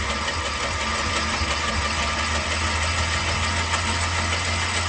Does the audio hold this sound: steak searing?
no